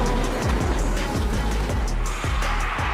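A race car drifts at high speed on an airport runway, its engine roaring continuously while tires squeal and skid in repeated sweeping bursts, loud and close with no voices.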